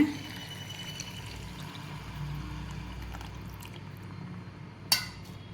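Tamarind water poured into cooked-down tomato paste in a pan for a small-onion kara kuzhambu, a steady soft pouring trickle with a brief sharp clink near the end.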